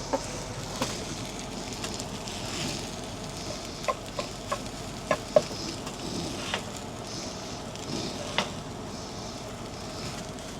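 Steak fried rice being stirred and fried in a pan inside a truck, a steady close sizzle with occasional scraping clinks of the utensil against the pan.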